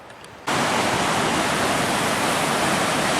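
A high creek in spring flow near Skalkaho Falls rushes as a steady, loud, broadband roar that cuts in abruptly after a quieter moment and continues unbroken.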